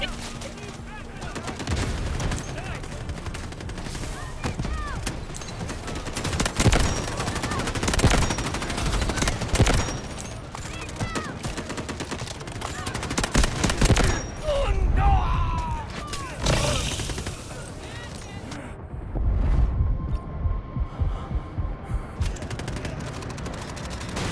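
Rapid gunfire bursts rattle through a Delta Force Mobile match, with automatic weapons firing in dense volleys, brief pauses and scattered explosions, loud and close throughout.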